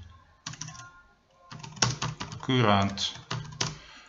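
Fingers clatter on a computer keyboard in quick bursts of keystrokes, close and crisp, while a person speaks briefly in the middle.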